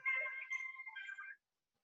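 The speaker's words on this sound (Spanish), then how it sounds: "Vamos a apagar el celular" Mobile phone ringtone chiming during a university materials science lecture, a short melodic electronic tune played close and clear for just over a second before cutting off into silence.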